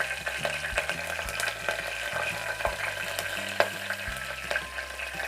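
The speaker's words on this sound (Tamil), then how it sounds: "இப்போது நறுக்கி வச்சிருந்த பச்சை மிளகாய் 4 அதையும் சேர்த்துக்கலாம்." Four chopped green chillies hit hot oil with bay leaves and whole spices for tomato rice, a continuous crackling sizzle with scattered sharp pops and stirring clatter at moderate level.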